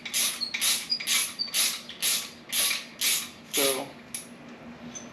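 Thread chaser being worked through the head bolt holes of a 6.0 LS engine, a rhythmic series of about nine scraping, ratchet-like strokes, close and fairly loud, with a faint hum underneath.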